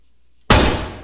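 A door bangs shut in a single sudden loud slam after near silence, its ringing decay trailing off over the following half second.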